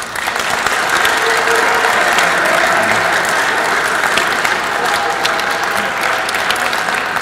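A classroom of students applauds a classmate at a school. The clapping is loud, dense and steady, a sustained burst from many hands with no pauses.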